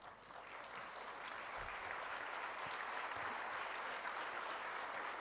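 First-year students at a university orientation day applaud together, a continuous wash of many hands clapping at a distance, steady and fairly faint throughout.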